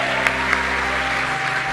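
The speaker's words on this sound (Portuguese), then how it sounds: "Obrigado pelo apoio, pelas palmas." An audience at a talk applauds, a dense steady wash of clapping with a couple of sharper individual claps, loud and close throughout the short burst.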